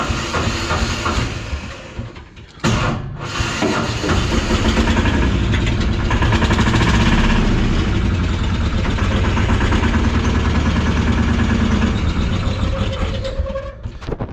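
A Yağmur 510 tractor engine runs with a loud, steady diesel chug that drops out briefly near the start and then holds a strong, even idle rumble to the end.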